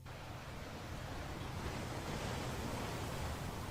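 Soft, steady ocean-like rushing from a seashell held to the ear, a continuous broadband hiss and low roar that swells slightly and holds even, with no voices.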